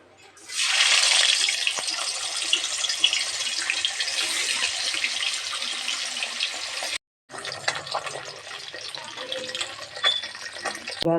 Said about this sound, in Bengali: তো তেল গরম হয়ে গেছে, প্রথমে আমি মাছগুলো ভেজে নেব।